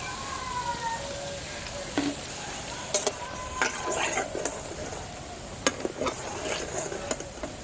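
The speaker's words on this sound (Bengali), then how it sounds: "এই যে লাস্ট ভাজা আমার ভাজা হয়ে গেল।" Mugshavali pitha, a Bengali winter sweet dumpling, fries in a pan, a soft steady sizzle broken by sharp clinks and scrapes of a utensil against the pan at irregular intervals, with no speech.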